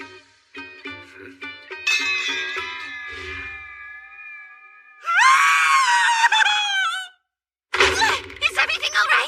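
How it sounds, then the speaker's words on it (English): A young woman screams in an English-dubbed anime. Shorter wavering high cries build into a loud, sustained shriek, then break off, and another sharp burst of screaming follows after a brief silence. "I just heard a young lady screaming in here."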